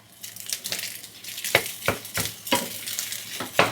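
Egg fried rice stir-fried in a pan on high heat while clumps are broken up: a low steady sizzle punctuated by sharp, irregular scraping and tapping strokes of a utensil against the pan.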